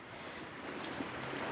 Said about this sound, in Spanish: Esta tarde está bien bonita porque está lloviendo bien bonito